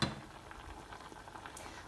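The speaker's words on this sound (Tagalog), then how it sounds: "antayin ko lang na lumambot at umunti yung sabaw" Pork adobo with soy sauce, vinegar, water, garlic and bay leaves simmers in a pot, giving a soft steady bubbling and gentle sizzling, faint and continuous with no talk.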